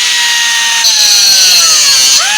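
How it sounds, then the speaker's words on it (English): A power tool cuts screws off the top of a panel, a loud, steady, high whining grind held close throughout, rising in pitch partway and dipping briefly near the end. "I'm going to cut the screws off on the top the same way."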